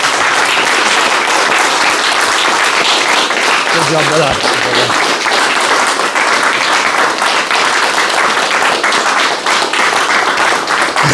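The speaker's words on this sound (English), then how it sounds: "Give him a round of applause, guys." A gathered crowd claps and cheers loudly and continuously for a Brazilian jiu-jitsu black belt award, with someone speaking briefly over the dense applause.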